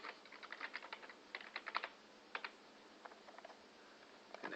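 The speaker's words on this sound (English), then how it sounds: "So all I'm going to do is to type in my password." Keys on a computer keyboard tapped in quick irregular bursts while a password is entered, close and fairly quiet, with short pauses between clusters of keystrokes and no talking.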